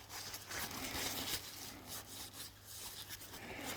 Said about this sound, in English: And we need a rag. Dry that off.